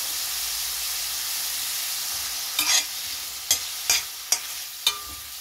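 Garlic frying in a pan gives a steady close sizzle and hiss, then a spatula scrapes and stirs in five short sharp strokes during the second half.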